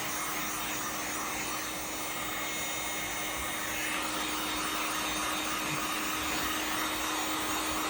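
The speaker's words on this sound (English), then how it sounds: "I'm going to start heating up the Kydex here." A heat gun blows steadily while heating a Kydex sheet for a knife sheath, a constant close airy roar with a faint high whine that holds unchanged for the whole stretch.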